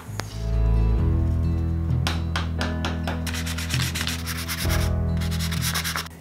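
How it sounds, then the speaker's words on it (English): Sandpaper rubbing glue residue off an Indian rosewood acoustic guitar back, a close, steady scratchy grinding with rhythmic back-and-forth strokes throughout. "I used a miniature dovetail saw and sandpaper to cut the braces to length and remove any glue residue from the guitar back"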